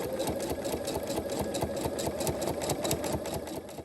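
A sewing machine runs a straight stitch at a length of 3.5, giving a steady, rapid mechanical chatter with even needle strokes, close and continuous.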